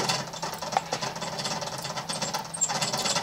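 Continuous light rattling and ticking from an exercise wheel as pet mice run, a quiet, even mechanical whir with no talking.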